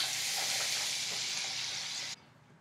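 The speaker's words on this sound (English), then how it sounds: "Saute these onions until they're translucent" Chopped onions sauté in a hot pan with a steady, bright sizzle that runs close and even, then cuts off abruptly near the end, leaving only faint room tone.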